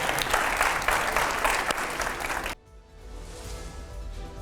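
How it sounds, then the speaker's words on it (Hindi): A television talk-show studio audience breaks into loud applause that stops abruptly partway through, leaving quieter room sound. "जोरदार तालियां हो"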